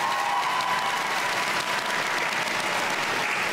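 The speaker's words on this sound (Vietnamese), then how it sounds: "hãy dành một tràng pháo tay để khích lệ cho đêm chung kết ngày hôm nay" Studio audience at the 2018 final of a Vietnamese TV contest show applauds, a continuous, moderately distant roar of clapping with faint cheering mixed in, holding steady throughout.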